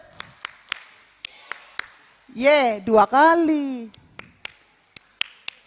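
A church congregation claps in unison, a dozen or so sharp, evenly spaced hand claps ringing out before and after a burst of group singing or chanting in the middle.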